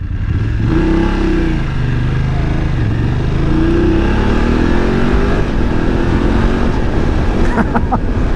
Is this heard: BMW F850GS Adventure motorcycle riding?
yes